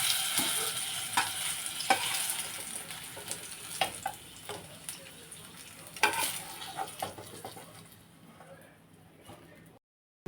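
Potato pieces fry in hot oil in a pan until reddish, giving a soft, steady sizzle with occasional clinks of stirring before it cuts to silence.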